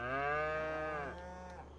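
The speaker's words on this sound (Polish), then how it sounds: "Więc mamy tutaj kilka krów." Cattle in a fenced pen on a farm in Farming Simulator 25 give one long, loud, close moo that slides downward and fades near the end.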